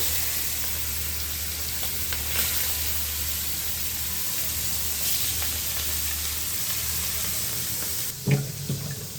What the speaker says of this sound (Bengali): এই যে তেল দিয়ে দিছি গরম হয়ে গেছে আর এটা দিয়ে দেবো মাছ এটা হচ্ছে কাতলা মাছ